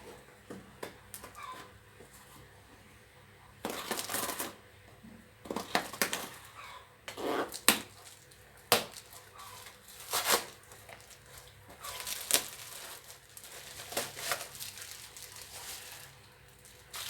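Bubble wrap from a lip crayon package crinkles and crackles as it is unwrapped, in close, irregular bursts separated by quieter handling noises, with no talking.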